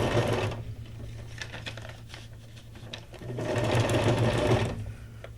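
A sewing machine runs a zigzag stitch with pink thread through fabric scraps, a steady rapid mechanical whirr that dips in the middle and swells again toward the end, close and alone.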